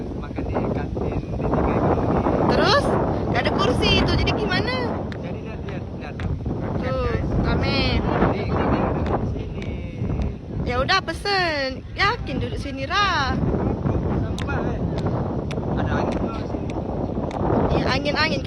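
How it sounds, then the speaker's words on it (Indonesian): Wind blowing hard across an outdoor campus canteen, a steady rushing buffet on the microphone that persists throughout under near, continuous chatter from several people talking. "angin-angin, kena debu makanan kita nih"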